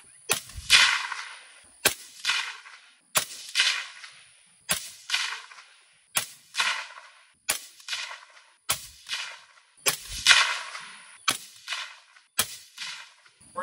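A 6.5 Grendel rifle fires ten Barnes VorTX 115-grain all-copper rounds, each a loud, sharp crack with a short ringing tail, spaced at a steady pace of roughly one shot every one to one and a half seconds.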